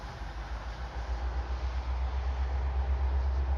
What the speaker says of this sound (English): They pulled the entire train onto track number 1.